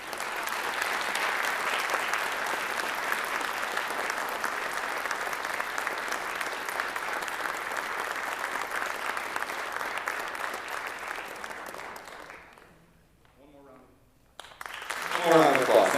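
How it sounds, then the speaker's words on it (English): Sustained applause from an audience at a secondary school band concert honoring an award winner, steady and dense for about twelve seconds before fading into a brief lull, then a voice speaks as clapping resumes. "One more round of applause."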